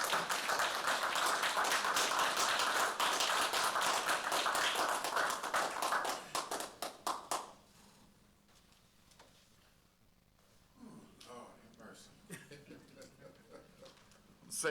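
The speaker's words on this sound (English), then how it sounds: "Kindly give a big round of applause to Mr." Audience applause at an evening Black History Month celebration, a dense burst of clapping that holds for about seven seconds, then thins to scattered claps and fades into quiet room sound.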